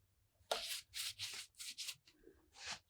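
Someone scrubs dirt from the vise jaws of a Linotype machine, a series of about six short, brisk rubbing strokes in an uneven rhythm, close and fairly quiet, with no voices.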